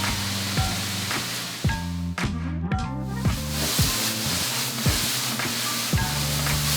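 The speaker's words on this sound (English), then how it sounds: "it's gonna keep caramelizing from the sugar that we tossed it in earlier" Apples caramelizing in sugar in a pan sizzle continuously, with occasional soft scrapes and bumps as they are moved, over a faint steady hum.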